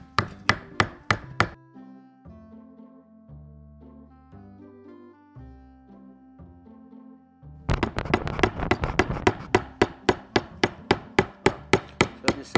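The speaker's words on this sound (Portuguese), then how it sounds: "você observa que a lateral do formão está defendendo, está cortando para fora" A wood chisel and gouge carving a small snake figure in wood, struck with sharp, regular blows in two runs separated by a quieter stretch of softer knocks, heard close and loud.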